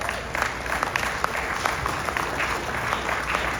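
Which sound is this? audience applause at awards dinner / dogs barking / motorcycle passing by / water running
audience applause at awards dinner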